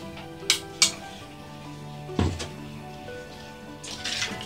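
Spoon clinks against a bowl as crushed green chilli mixture is stirred together with grated coconut for a netholi (anchovy) fish ulathiyath, with a few sharp taps and soft scraping, close and fairly quiet.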